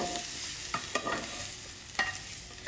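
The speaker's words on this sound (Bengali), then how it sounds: "এখন আমি এটাকে মিক্সড করে দেবো।" A spatula scrapes and stirs boiled food being mixed in a pan over a gas flame, giving a few sharp clinks and scrapes above a faint continuous sizzle, close and with no talking.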